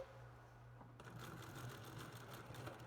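A Union Special 51800 industrial sewing machine stitching a waistband: after a quiet start, the motor kicks in with a steady, buzzing whir that runs continuously to the end.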